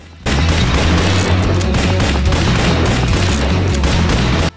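Dense, continuous gunfire from Red Dead Redemption, loud and close, a steady barrage of overlapping shots and booms lasting several seconds over a low rumbling bed.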